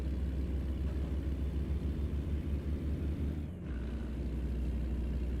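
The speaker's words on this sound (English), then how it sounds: "the retarder on this truck" Truck engine with its retarder engaged, a low, steady droning rumble heard from inside the cab with a slight dip near the end, no talking.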